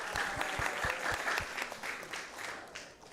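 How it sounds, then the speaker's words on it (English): Applause from an audience at a temple gathering following a Krishna Katha discourse, a dense wash of many hands with a few distinct nearby claps, loud at first and thinning toward the end. "So let's give them a big round of applause."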